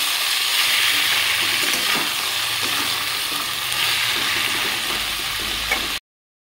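Vegetable stems fry together with potatoes in a pan, a dense, even sizzle with soft scrapes of stirring, steady and close for about six seconds before cutting off abruptly into silence.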